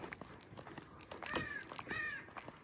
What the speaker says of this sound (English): I don't know what these birds are, black and white. But they don't have them in California.